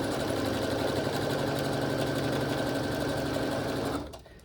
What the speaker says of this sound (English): sew down the right side with a 1/4 inch seam